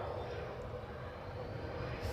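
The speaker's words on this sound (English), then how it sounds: "A400M Atlas" An Airbus A400M Atlas military transport plane at Edinburgh airport gives a broad, steady engine roar that stays constant and fairly distant, with no clear rise or fall.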